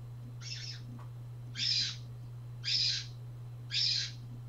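Four evenly spaced hooting calls from a single owl, moderately close, each short burst separated by a pause over a steady low hum, with no voices.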